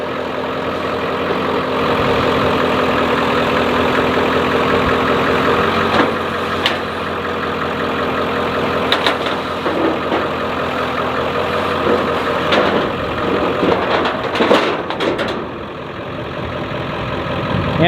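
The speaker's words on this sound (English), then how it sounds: "And now we're going to take the truck off the trailer." A 1995 Ford F250 OBS truck's 7.3 diesel engine idles and rumbles steadily as it drives off a trailer, close and continuous for a long stretch, with occasional clicks and metallic knocks.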